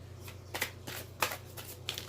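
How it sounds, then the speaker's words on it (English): Tarot cards riffle and slap in quick, soft bursts, several shuffles in a row, close and quiet over a faint low hum. "So let's just shuffle the cards and see what comes out."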